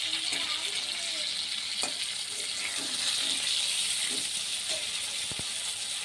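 Pieces of pointed gourd and potato sizzle in hot oil in a pan, with a steady hiss throughout and a few faint scrapes and knocks as they are stirred.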